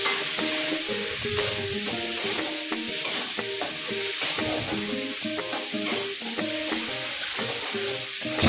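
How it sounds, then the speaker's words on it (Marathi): Village-style potato bhaji frying in a pan while being stirred, with a continuous loud sizzle broken by repeated scraping and clinking strokes of the spoon at a steady, busy rhythm. "छान मिक्स करत राहायचं."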